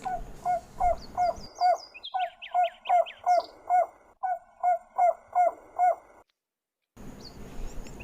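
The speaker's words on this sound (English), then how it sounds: "Owl. This is an owl." A single owl hoots in a steady series of short, evenly spaced calls, clear and close, with brief higher bird calls overlapping partway through before a short silence.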